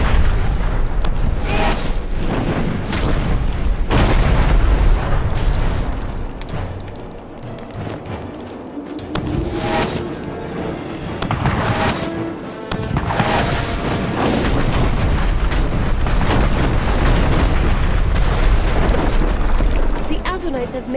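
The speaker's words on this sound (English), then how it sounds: "Have cannons sighted on us." Cannon fire and explosions in the video game Dungeon Siege 3 come as a string of heavy booms and crashes, loud and close, with short lulls between blasts.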